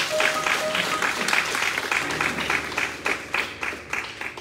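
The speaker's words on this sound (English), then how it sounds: "let's give God another hand clap of praise." A church congregation claps in praise during a pastor's appreciation service, dense continuous clapping with cheers and scattered voices, fairly close and loud, a few sharper claps standing out near the end.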